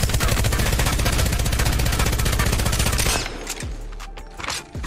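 Devotion gun firing in Apex Legends, a loud, rapid, unbroken stream of automatic shots for about three seconds that stops abruptly, followed by quieter handling clicks and thuds.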